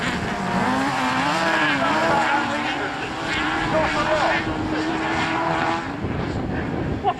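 Small autograss racing buggies at Castle Combe idle and rev near the start line, giving a steady, moderately loud engine drone with a wavering pitch that eases off toward the end.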